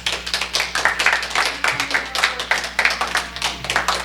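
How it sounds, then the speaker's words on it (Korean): A church congregation at a Christmas service claps in welcome for a visitor, a modest group of hands beating in quick, fairly regular rhythm, close and clear with a low steady hum underneath. "환영의 박수 부탁드립니다"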